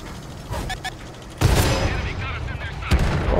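Tank cannon fire in World of Tanks on console: heavy booming shots hit hard, with one big blast followed by rumbling decay and a second impact near the end, while someone talks over the action.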